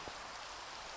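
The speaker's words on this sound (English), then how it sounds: "It's raining." Rain falls in the Minecraft video game, a steady even hiss of rainfall throughout this brief moment, with no voices.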